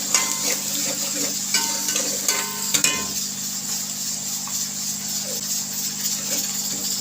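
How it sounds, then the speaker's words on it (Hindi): Onions sizzle steadily in a pan while being stirred, with occasional utensil scrapes and clinks over a constant kitchen hum. "प्याज को आपने ज़्यादा कलर नहीं देना, ठीक है, बस आपने हल्का सा ऐसे कलर देना प्याज को"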